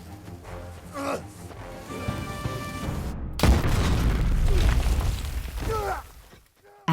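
Dynamite detonates in a sudden, loud blast partway through, followed by a sustained rumbling roar of debris that slowly fades to quiet.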